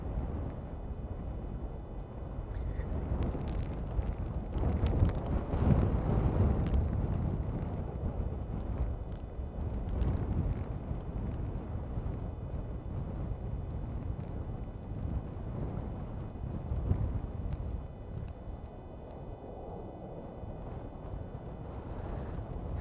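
Strong gale gusts roar across an open airport, buffeting the microphone with continuous low rumbling wind noise that swells and eases throughout, no voices.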